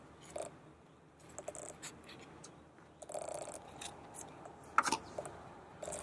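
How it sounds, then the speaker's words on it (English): Close, crisp snips and scraping as a Sedeveria 'Harry Butterfield' succulent stem is cut near the soil, a few short cuts with rustling in between, no talking. "So I cut closest to the soil here because I want all of that plant, the whole thing."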